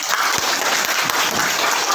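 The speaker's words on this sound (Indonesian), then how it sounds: "Tepuk tangan buat pagi." Close, loud clapping from a group of students in a classroom science lesson, a continuous dense patter of hands with a few sharper individual claps standing out.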